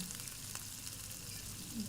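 Potatoes fry in hot oil for a home-style parshe fish curry, giving a soft, continuous sizzle that stays close and fairly quiet throughout, with no voices.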